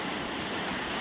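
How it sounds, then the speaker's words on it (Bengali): Rain driven by strong wind roars as a steady, dense broadband wash, close and unbroken, with no voices. "দেখো এদিকে কিরকম বৃষ্টি দেয়।"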